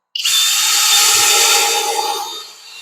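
A higher-end power drill set to speed 1 whirs up sharply and runs steady and loud at close range for about two seconds, then winds down as it stops, with no speech.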